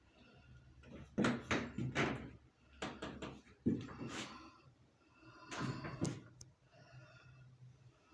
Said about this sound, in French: Les beaux petits tiroirs bien faits.